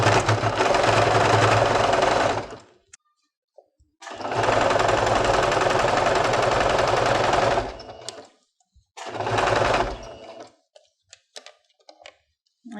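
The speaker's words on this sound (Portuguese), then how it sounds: "A máquina tem um pouco de dificuldade de passar em lugar assim duro. Então vamos costurar." A sewing machine stitches through thick, stiff fabric in three bursts of rapid mechanical whirring, the first two long and the last short, separated by quiet pauses with faint clicks.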